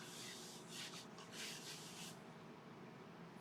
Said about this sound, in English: this scraper just takes off that tiny little angel hair